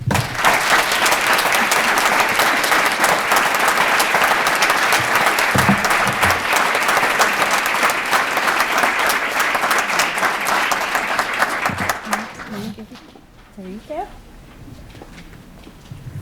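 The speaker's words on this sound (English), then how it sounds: "please give a round of applause to Ms." Audience at a racial healing awards evening applauds an award recipient with loud, sustained, dense clapping for about twelve seconds, then it fades out into quieter room sound with a few faint voices.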